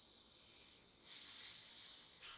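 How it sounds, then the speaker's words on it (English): A person slowly exhales through the teeth in a sustained hissing S breath like a snake, a soft, bright hiss that fades gradually with a brief renewed push near the end, no speech. "We're going to change the out breath to we call it an S breath."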